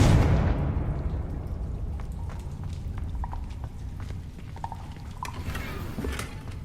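A Confringo fire spell bursts in the Hogwarts Legacy video game, a loud blast at the start that rolls off into a rumbling, crackling tail, with scattered small pops and debris-like ticks following.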